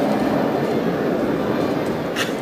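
A monorail rides along at Hersheypark with a steady rumbling, rolling drone of wheels and motion that stays constant throughout, close and continuous with no talk.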